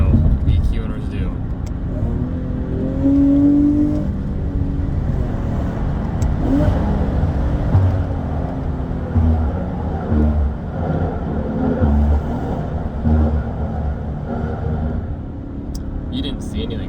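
Infiniti G37x engine rumbles and revs through downshifts inside a tunnel with the window open, echoing loudly across a long stretch while someone talks over it.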